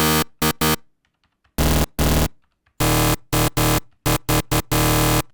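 Harsh, buzzy FM synth stabs for psytrance in choppy bursts, some short and some sustained, separated by silences, loud and dense with a gritty electronic tone.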